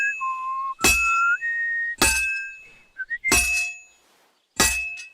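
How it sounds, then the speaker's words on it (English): Melodic whistling from a character in the medieval role-playing game Kingdom Come: Deliverance II, short tonal phrases alternating with sharp metallic clangs of hammering, close and loud with no talk. "Nice little whistle, man."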